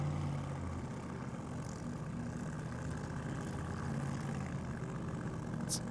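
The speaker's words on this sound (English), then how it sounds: "I only hear one car running" A Ford Mustang funny car with a 666 number at an ANDRA Masters drag racing event, running solo with a steady, loud, droning engine note that holds throughout.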